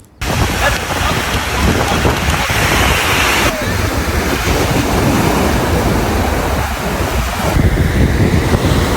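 Stormy sea surf breaking on a beach, a continuous loud roar of crashing waves mixed with wind buffeting the microphone throughout.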